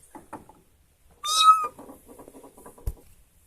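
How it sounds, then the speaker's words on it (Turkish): Cats meowing: one loud, clear, rising meow near the middle, with faint quieter mews around it and people talking softly before and after. "Kedişcikler ya çok tatlılar."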